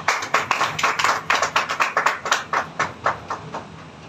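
A small audience at a Sunday Buddha worship gathering claps in a steady rhythm, each clap crisp and fairly near, with no talking.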